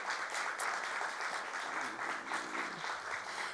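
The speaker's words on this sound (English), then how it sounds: "First of all, we want to give a big round of applause to our morning keynote speaker, Dianne Festa." A conference crowd applauds a morning keynote speaker, sustained, even clapping from many hands that stays full and steady throughout, heard fairly faintly at a distance.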